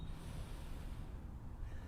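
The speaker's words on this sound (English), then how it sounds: "First, a cleansing breath, breathing in" A slow, steady cleansing inhale at the start of an outdoor yoga practice on a playing field, heard as a soft, continuous airy rush with open-air noise, and no talking.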